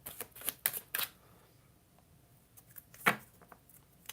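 Tarot cards being shuffled by hand in a quiet room, a few brief crisp riffling bursts near the start and another near the end with soft pauses between, fairly faint and close.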